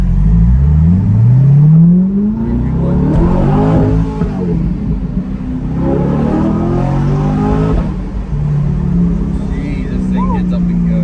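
A C8 Corvette fitted with a Paragon exhaust revs and accelerates hard, its loud engine note sweeping up through the gears and dropping back between pulls, close and continuous.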